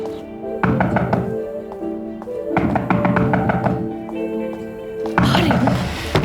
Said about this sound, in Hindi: दरवाजा बज रहा है, मैं जाकर देखती हूँ।